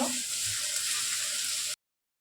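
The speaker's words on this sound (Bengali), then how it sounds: "এই রসুনটা আমি দিয়ে দেবো দিয়ে ভালো করে ভাজবো" Garlic paste frying in hot oil for a chicken dish, a bright continuous sizzle close up that cuts off abruptly after under two seconds.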